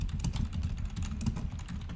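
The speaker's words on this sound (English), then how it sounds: "Sorry for those of you who don't like me typing." Rapid, uneven clacking of computer keyboard keys, close and moderately loud, continuing in quick bursts throughout with no talking.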